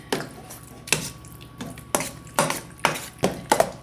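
Libby's pure pumpkin is mixed with egg in a bowl: a series of sharp, evenly spaced utensil knocks and taps against the bowl, close and clear, about ten strokes in a steady rhythm.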